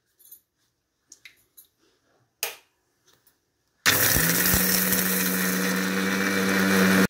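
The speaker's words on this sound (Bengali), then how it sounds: "দেখো এবার আমি মিক্সারে আগে শুকনোটা গুঁড়ো করে" A mixer grinder starts after a few light clicks and handling noises and grinds dry spices for a cauliflower dish, running as a loud, steady whirring drone for the remaining seconds.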